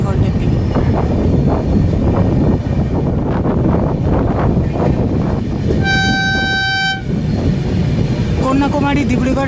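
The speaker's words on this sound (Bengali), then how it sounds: "আমাদের ট্রেন এখন দাঁতন রেলওয়ে স্টেশন ডিপার্চার নিয়ে নিয়েছে পরবর্তী হল্টের দিকে" Dhauli Express pulling out of Dantan railway station, a loud steady rumble of wheels and carriages, with a sustained horn blast partway through; voices talk over it.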